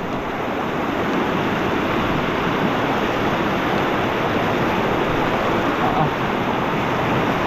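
The Dumacaa River's current rushes in a steady, loud, broadband wash of flowing water, continuous and unbroken throughout with no talk over it.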